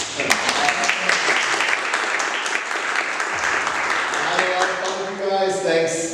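A small group of game-show players clap together for a contestant voted out of Ascendance Season 6, steady close applause running through with voices talking over it and a few voices rising near the end.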